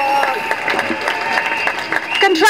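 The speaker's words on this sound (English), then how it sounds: "let's give a huge round of applause for that banner over there for contraction and convergence" At an outdoor London climate change rally, a crowd claps and cheers for a banner, the applause mixed with whistles and raised voices that carry over the clapping throughout.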